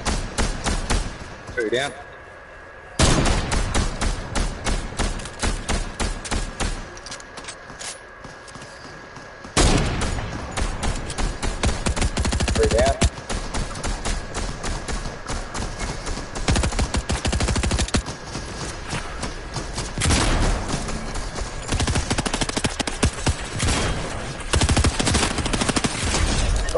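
Rapid bursts of automatic gunfire in the Fortnite battle royale game crackle loudly through most of the stretch, with short pauses between volleys and players talking over the shooting.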